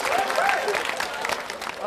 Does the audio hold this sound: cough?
no